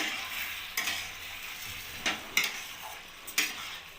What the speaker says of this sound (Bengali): এবার ধনেপাতা কুচিটা দিয়ে আমি আবার ভালো করে নাড়িয়ে নেব।